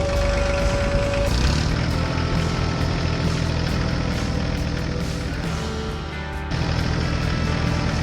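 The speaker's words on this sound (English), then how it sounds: "The tractor moved across the farm toward the field where a smaller tractor was stuck." A green farm tractor fitted with a front plow and a tow rope drives across a snowy farm, its engine giving a steady, loud low rumble that holds throughout, with a brief dip in level near the end.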